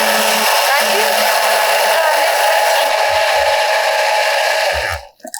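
An electric blender whirring loudly and steadily while blending mint lemonade, a dense, close motor roar that runs continuously before cutting off abruptly near the end.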